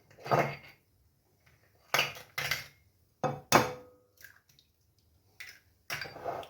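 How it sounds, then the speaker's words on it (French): Three eggs for crème caramel are cracked against a bowl, giving a few sharp close knocks and splats separated by pauses of near silence, with no talking. "on va, hop, casser nos 3 œufs"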